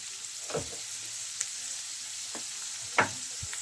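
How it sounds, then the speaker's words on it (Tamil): About 270 grams of paneer shallow-fries in a little oil for paneer pilau, a faint steady sizzle broken by a few soft scrapes of stirring. "இதில் 270 கிராம் பன்னீர் நான் பொரிக்கிறேன்"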